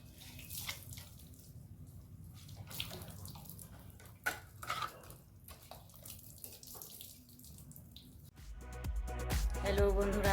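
A village car wash with soap and water, with scattered splashes and trickles, then a louder rush of running water near the end.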